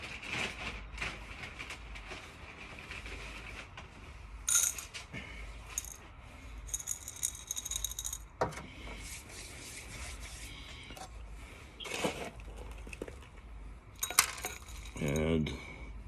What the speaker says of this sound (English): add some pebbles